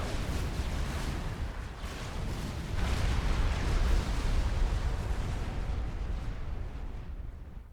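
A sustained roaring blast from units detonating in the real-time strategy game Supreme Commander 2, a broad rumbling explosion that swells midway and rolls on without pause before fading at the end.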